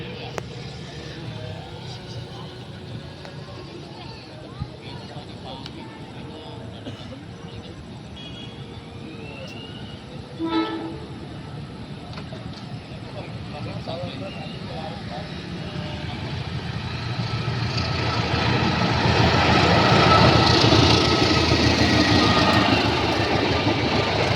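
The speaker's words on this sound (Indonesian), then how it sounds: "dari arah kiri ada kereta" A train approaches from the left during trainspotting. Its low rumble builds steadily from a distant hum into a loud roar over the final seconds, with a brief clank midway.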